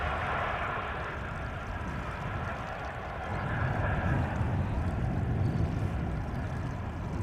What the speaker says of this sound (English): Flying parallel to it, to the centered runway, is an Embraer 190 by the looks of it.